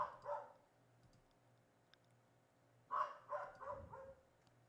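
Dogs bark from a distance in the background, two short clusters of barks separated by a quiet stretch with faint clicking in between; no one speaks.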